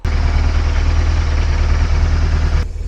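An ex-police motorcycle idles with a loud, steady, close-up engine rumble that holds evenly for a few seconds, then drops off abruptly near the end; no voices.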